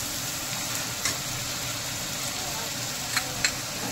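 Garlic, cumin and ginger paste sizzles in hot oil for a lauki kofta gravy, a low steady frying hiss with a few sharp clicks of a spoon against the pan.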